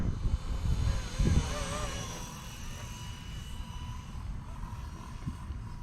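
A Blade 230 S RC helicopter whirs with a steady rotor buzz, warbling slightly as it moves, over wind noise and faint thumps.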